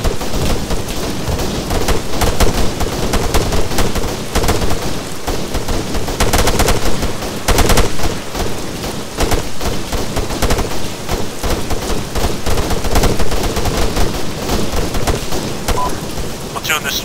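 Sustained heavy gunfire in Arma 3 during a forest road sweep, dense overlapping bursts and cracks filling the whole stretch at high volume, with radio chatter mixed in.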